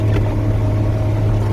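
A tractor engine labours hard in a high gear, climbing a rough hill road during harvest, a loud, steady low drone with no letup across the short stretch.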